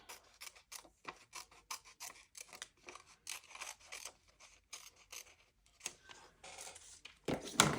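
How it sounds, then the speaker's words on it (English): Scissors cutting out a paper baseball picture, snipping repeatedly in quick, uneven strokes at close range, with brief pauses and a louder rustle of paper at the end. "I'm going to cut the baseball out."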